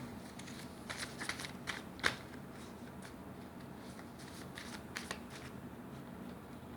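Tarot cards shuffled and handled up close in a short run of soft papery flicks and snaps, fairly quiet over a faint steady background hiss, with no one speaking.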